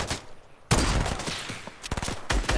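Rapid bursts of video game gunfire crack out in close, loud volleys, with a dense fusillade after a short quiet start and several sharp single shots toward the end.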